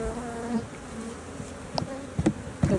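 Honey bees buzz steadily around open hives while a colony is being split, a dense close hum with a few louder passes and bumps near the microphone.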